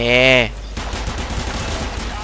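Rapid gunfire in the Warframe video game, a rattling burst of shots following a short tonal game sound, with a voice speaking over the action.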